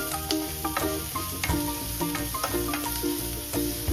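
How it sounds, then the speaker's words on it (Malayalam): Beetroot and green chillies sautéing in a pan for Kerala-style beetroot thoran, a continuous close sizzle broken by repeated clinks and scrapes of a spoon stirring against the metal. "ഇതെല്ലാം കൂടി നന്നായിട്ട് വഴറ്റണം"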